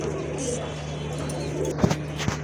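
Soft low cooing of pigeons murmurs against a steady hum, with a couple of brief knocks and faint chirps.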